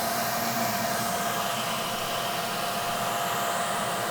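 A Pro-Ject VC-S wet vacuum record cleaning machine runs with a loud, steady, close-up motor whine and airy rush that holds constant throughout, with no voices over it.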